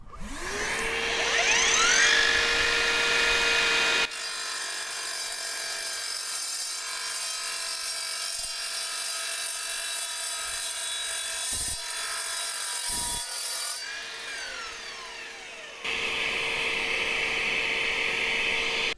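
A cordless 2x20V sliding miter saw cuts through aluminum tube: the motor spins up with a rising whine, the blade grinds steadily through the metal for about ten seconds, then it winds down and revs briefly again, close and loud.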